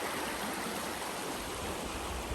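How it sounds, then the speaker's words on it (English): Backyard creek water trickling and rushing steadily, a dense continuous wash of flowing water close by with no voices. "just enjoy the sound of the water trickling"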